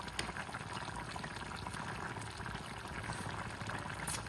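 Pot of vegetables at a rolling boil, a dense continuous bubbling and gurgling close by, steady throughout with no voices.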